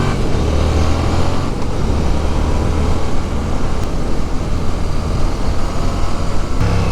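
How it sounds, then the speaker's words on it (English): A 2019 Yamaha MT-07 (FZ-07) motorcycle rides along the road, its engine droning steadily and loud with heavy wind rush throughout, no talk. "This is the FZ-07. Let's go take it on the road for a bit."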